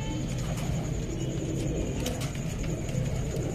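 Kasoori pigeons in a loft, with soft cooing over steady broadband background noise, continuous and moderately near throughout.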